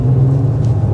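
A 2025 BMW M5 G90 accelerating at full throttle in electric mode with 197 horsepower, giving a steady, loud low rumble and hum with no revving engine note, heard up close inside the car and without any talk.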